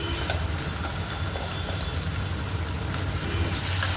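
Onion, tomato and cashew gravy masala fries in an oily pan with a continuous crackling sizzle, moderately loud and steady throughout, with no talking.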